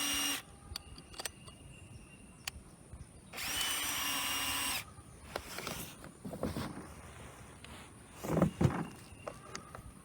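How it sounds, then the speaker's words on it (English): A power drill with a half-inch bit bores a hole for a kiddie pool garden system, with one loud burst of drilling lasting about a second and a half amid quieter handling knocks, clicks and shuffling. "by the time I use this 1/2 inch drill bit, the bottom of the hole will be at 2 inches"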